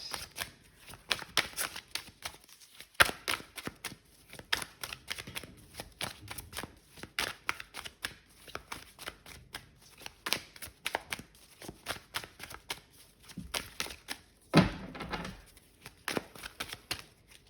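Tarot cards are shuffled close up during a reading, with a long run of quick, crisp riffling flutters and soft slaps in irregular bursts, fairly quiet and alone.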